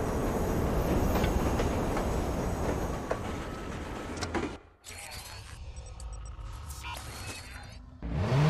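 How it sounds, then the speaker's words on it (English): Train arriving at a station in the video game Watch Dogs: loud rolling rail rumble that suddenly drops away, followed by softer mechanical clatter, hisses and door-like sounds with a burst at the end. "Northbound train, arriving shortly."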